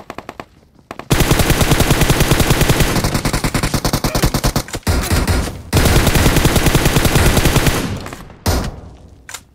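Loud, close automatic gunfire from a gun in a battle royale video game: rapid continuous bursts with short pauses between strings of shots.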